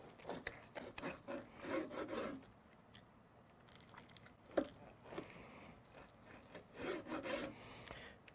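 A knife slices smoked brisket point cooked on a Pit Barrel Cooker into thick pieces, making faint, close, repeated rubbing and scraping strokes in short bursts with quiet pauses between them.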